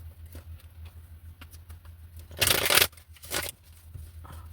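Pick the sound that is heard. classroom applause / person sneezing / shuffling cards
shuffling cards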